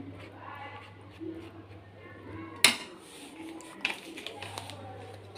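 Pizza topping being stirred with mayonnaise in a bowl, with a few sharp utensil clinks against the bowl over a steady low hum and quiet background.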